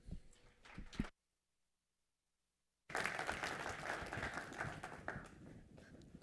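An audience applauds to welcome a speaker onto a stage, a brief burst of clapping, then a gap of silence, then a longer, fuller round of steady applause.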